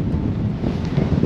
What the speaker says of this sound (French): Quand je vous disais qu'il y avait beaucoup de vent, je rigolais pas, hein.